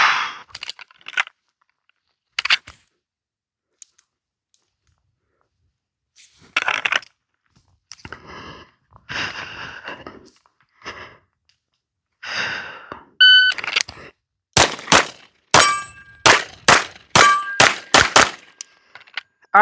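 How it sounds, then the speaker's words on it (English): Pistol shots ring off steel targets on a shooting course, heard as sharp isolated cracks early on and then a rapid string of closely spaced, loud metallic clangs near the end. "leave on the steel, and then as soon as I'm ready, just keep the gun up and transition over and just start shooting"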